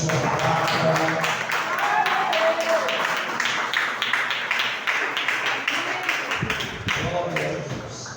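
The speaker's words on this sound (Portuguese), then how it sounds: "Vamos aplaudir o Senhor pela sua palavra" A church congregation claps and applauds for several seconds, a dense patter of hands mixed with a speaking voice, before the clapping thins out.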